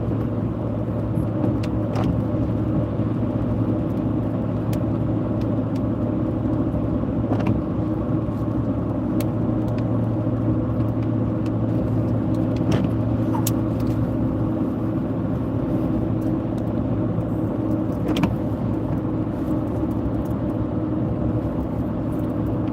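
A car drives along a Kansas road during a storm chase near Harrington, with a steady, loud engine and road rumble and tire noise lasting throughout, and a few faint clicks over it.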